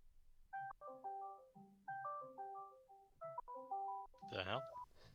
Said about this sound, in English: Someone phone going off.